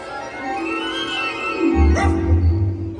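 A ghost dog character at a Disney Halloween party stage show: a loud whining yip and short bark over a backdrop of music and crowd noise.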